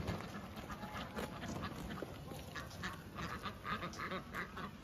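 A flock of ducks quacks steadily in a farm village as they walk home behind a lead duck, with dense overlapping calls close by and no talk.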